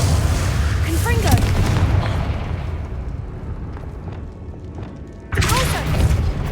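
A booming spell explosion from a dark-wizard video game duel, a loud rumbling blast that fades out, then a second burst strikes near the end, with a faint voice underneath.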